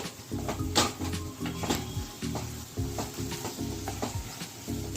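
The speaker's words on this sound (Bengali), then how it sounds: "এই যে এবার আমি নেড়ে নিচ্ছি, লেবুর রস দিয়েছি।" Rohu fish mixture with lemon juice being stirred in a bowl for homemade fish and egg cutlets, giving steady scraping and clinking strokes, a few sharper knocks standing out, with a faint music-like tonal bed underneath.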